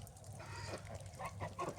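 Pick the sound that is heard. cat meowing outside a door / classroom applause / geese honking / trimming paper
geese honking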